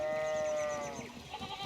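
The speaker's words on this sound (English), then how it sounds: "we need to get these sheep under control" Sheep in the video game Pentiment let out one clear, drawn-out bleat with a wavering tone, fairly close and loud, then trail off into softer background noise.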